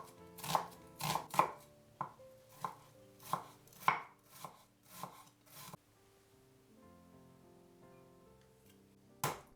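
A knife chops an onion on a wooden board in a dozen crisp, fairly quick strikes over about six seconds, then quiet with faint background tones and one last sharp chop, no talk.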